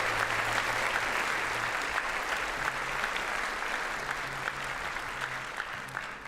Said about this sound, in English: Let's give a round of applause for those soloists one more time.